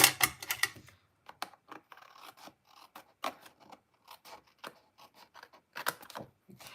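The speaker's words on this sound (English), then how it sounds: "let me grab my paper snips just to trim that off" Paper snips trim a strip of 12 by 12 designer paper, making a series of short, crisp, clicky cuts close by with brief pauses between them and no voices.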